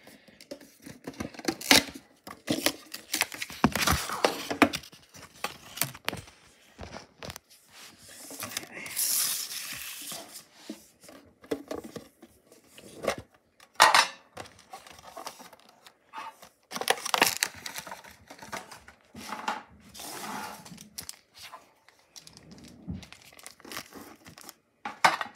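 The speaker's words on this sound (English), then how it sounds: "Cut the Tom Brady one first" Scissors cutting and crinkling open a foil 2023 Prizm trading card pack: intermittent snips, tearing and crumpling wrapper sounds, close and fairly quiet, with brief pauses between.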